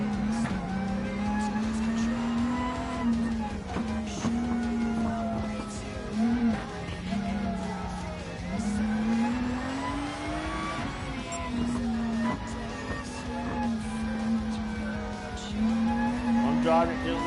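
Car engine in a PS4 racing game driven over several laps, a steady loud drone rising and falling with shifts and revs, with talk over it throughout.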